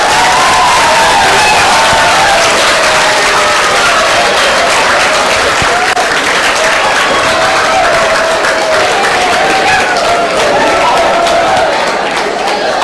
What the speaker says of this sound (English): Give big round of applause for your performance only.